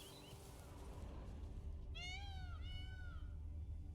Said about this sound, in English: Kind of like a cat.